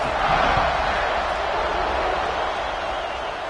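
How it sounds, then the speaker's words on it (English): A large American football stadium crowd buzzes steadily with a loud, continuous roar of many voices, slightly fading toward the end. "this crowd is buzzing after that last score"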